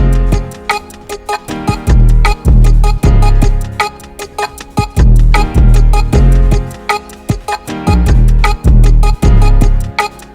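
Loud hip-hop beat with a heavy booming 808 bass from a Splice sample pack and Friday Night Funkin' game sound effects, driven by crisp, steady ticking hi-hat clicks and punchy repeating hits.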